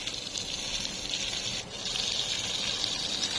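Fermented buffalo-dung liquid fertilizer gushes steadily from a hose or pipe onto jujube plants, a continuous near rush of pouring water with a brief dip partway through.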